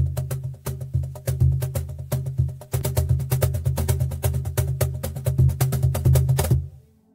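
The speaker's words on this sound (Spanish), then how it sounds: "El percusionista Ismael García golpea el lomo de un cajón único, el primero con el que se puede ajustar el sonido" A tunable flamenco cajón struck on its back panel, giving steady rhythmic hits: deep booming bass strokes mixed with sharp, snappy slaps. Played close and alone, with the pattern running for several seconds before stopping.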